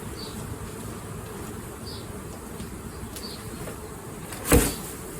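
Bees buzz faintly around a steady outdoor hum, with one brief louder thump near the end.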